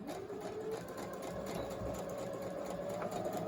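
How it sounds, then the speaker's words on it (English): A sewing machine back-stitches over a fold of a cloth face mask with elastic, a steady, close, continuous mechanical whir with a rapid needle rhythm and no pause. "what I'm going to do is back stitch over it."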